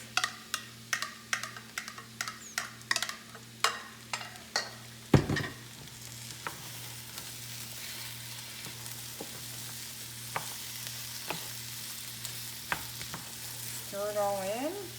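Mushrooms are stirred into onions and rice sautéing for mushroom and pea risotto, with a run of regular spoon scrapes and taps over a steady sizzle at first, then a softer continuous frying hiss with occasional clicks.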